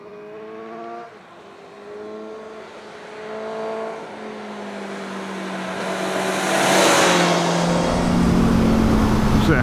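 A 2017 Suzuki GSX-S750 motorcycle engine screams up through the revs while riding, rising in pitch with a gear change, then surging into loud rushing wind noise toward the end.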